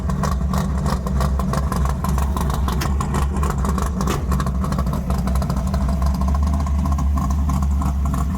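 A 1973 big block Plymouth Satellite with a six-pack setup idles steadily and loudly up close, a deep continuous rumble with a slightly lumpy pulse and no talking.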